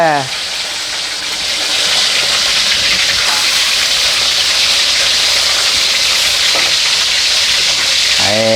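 Steady, loud sizzling of pork frying in hot oil, a continuous crackling hiss filling the whole clip with faint stirring sounds.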